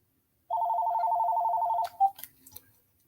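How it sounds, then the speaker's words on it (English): A telephone rings in a steady electronic trill for about a second and a half, loud and close, then cuts off, followed by a few faint clicks and handling noises. "Phone be ringing all day, but nobody been on it."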